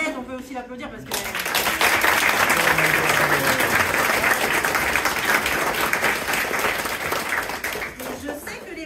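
An audience applauds a chef at the opening of a new nursery and canteen in Isola 2000, a loud sustained burst of clapping that swells after a brief spoken lead-in and fades toward the end.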